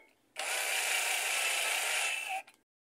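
Power screwdriver tightening screws on the plate of an Admiral/Maytag washing machine during reassembly: one steady, fairly loud whir lasting about two seconds, starting and stopping abruptly in a quiet room.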